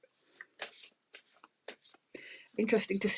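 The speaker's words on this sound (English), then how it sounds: "So I don't choose the cards. I let Spirit do that. I shuffle." Tarot cards shuffled by hand in a brief rustling, riffling burst near the end, following a stretch of speech from a reader.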